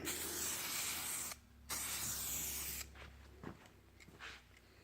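Aerosol can spraying black paint onto a Buick front bumper, a steady close hiss that cuts off briefly, resumes, then gives way to quieter handling noises.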